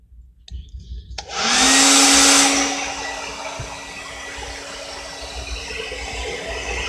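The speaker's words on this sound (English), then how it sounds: "I'm gonna go get a hair dryer." A hair dryer switches on with a click and roars loudly, then settles into a steady, slightly quieter whooshing hum that keeps running.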